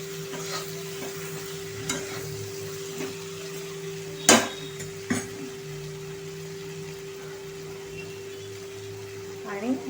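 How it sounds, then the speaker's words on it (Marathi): Okra and potato being stirred in a pan for a Maharashtrian bhaji, a steady low sizzle with a few scrapes and knocks of the spoon against the pan, one louder clatter near the middle, and no talking. "आपण एकदम भेंडी मिक्स करून घेऊया"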